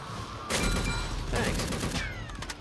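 Rapid bursts of gunfire in the shooter game Unkilled, loud and close, with dense overlapping shots and several short pauses between volleys.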